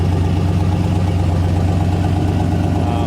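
A cold methanol-fuelled engine fitted with 210 lb injectors idles steadily and loud up close, a continuous low rumble with no revving throughout.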